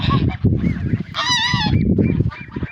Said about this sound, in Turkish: Kazlarımız bayağı hareketlenmeye başladı artık.